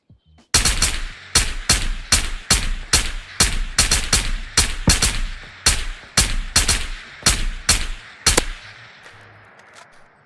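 An FAL rifle fires in the VR shooter Ghosts of Tabor, about sixteen loud, sharp single shots spaced roughly half a second apart, each trailing a short echo, ending in quiet.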